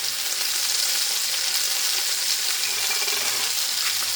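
Food frying in a pan for a penne pasta dish, with a steady close, loud sizzle throughout, faint stirring and no speech.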